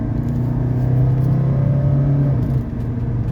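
A 1984 Mercedes 300SD diesel at full throttle in traffic, a loud steady engine drone and rumble heard from inside the cabin, holding a rising tone before easing slightly near the end.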